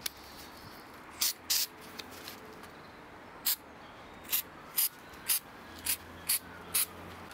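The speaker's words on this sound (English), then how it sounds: "I'm going to spray some coarse texture paint on the mask." Short hissing bursts of an aerosol can spraying coarse texture paint onto a mask, about a dozen quick puffs in an irregular rhythm, close and clear against a quiet background.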